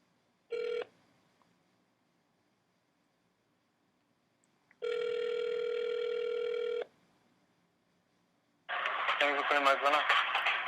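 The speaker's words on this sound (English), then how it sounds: "Dialing complete." Telephone dialing on a call-in line: a short tone, then a long steady ringing tone, followed by a burst of garbled electronic line noise, each separated by silence.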